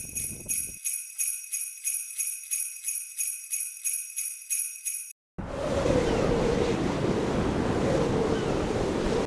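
Rough sea surf on the Yorkshire coast at Sandsend, waves crashing with a steady loud wash and wind buffeting the microphone, following a stretch of pulsing rhythmic noise at the start.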